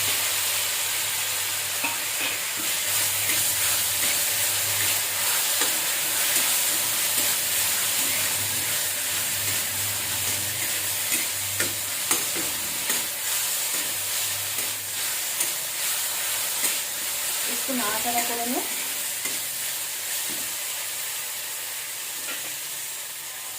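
Papaya frying in hot oil in a home kitchen, a steady close sizzle and hiss with repeated scraping stirs of a spatula against the pan, continuing throughout.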